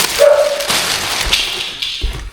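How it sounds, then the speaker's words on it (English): Annie the dog yelps and whimpers in a couple of short, high cries, followed by a few thumps and rustles nearby. "dog's barking in the background there"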